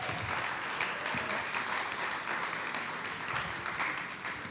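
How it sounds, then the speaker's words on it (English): Steady, dense applause from an audience at a senior school spring arts showcase, honoring the stage crew, sustained evenly at moderate loudness for several seconds. "so let's give a round of applause to them."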